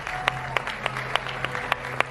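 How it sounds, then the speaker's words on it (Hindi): Audience applause at an event, sparse rhythmic clapping with evenly spaced sharp claps over a low steady hum, fairly close and moderate in loudness. "जोरदार तालियों की गड़गड़ाहट हो जाए"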